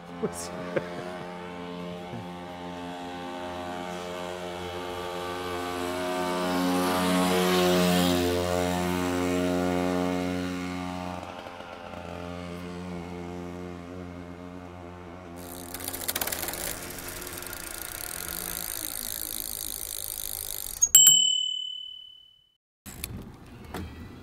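Electric motor on a Riese und Müller Packster 70 cargo e-bike hums steadily with a sustained tonal whine that swells and fades, joined by passing road noise and brief clicks near the end.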